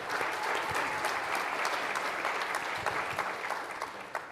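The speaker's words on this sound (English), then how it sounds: "Give them a round of applause." A crowd claps steadily throughout, a dense wash of applause from a sizable audience at a fashion show and keynote event, holding strong and tapering only slightly at the end.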